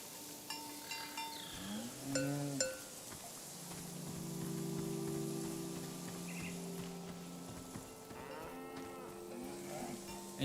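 A cow in the game SEASON: A letter to the future moos several times, low drawn-out calls near and clear, over a soft steady patter of rain.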